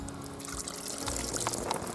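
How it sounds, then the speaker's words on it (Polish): Water splashing and pouring out of a fish bag while a carp is released at a fishing lake, a close, steady gushing trickle lasting a couple of seconds. "Woda aż się wylewa, nie oszczędzamy."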